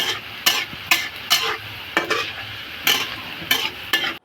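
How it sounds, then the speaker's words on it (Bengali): Shredded potatoes crackle and sizzle as they fry in hot oil, with a steady bright frying hiss under repeated scraping stirs roughly every half second, close and fairly loud. "কন্টিনিউয়াসলি নেড়ে চেড়ে ভেজে যেতে হবে।"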